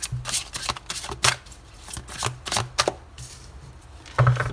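Tarot cards being shuffled in quick, crisp bursts of riffling and flicking, close and fairly quiet, with no talking.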